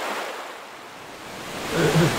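A rushing water current in the video game Gothic II gives a broad, continuous whooshing wash like surf, dipping slightly then swelling louder toward the end, with no speech over it.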